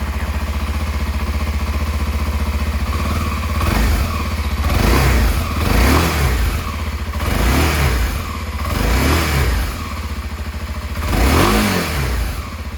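A Kawasaki Ninja 250SL motorcycle with stock exhaust idles steadily, then revs up in several surging bursts of throttle, loud and close, with no one talking.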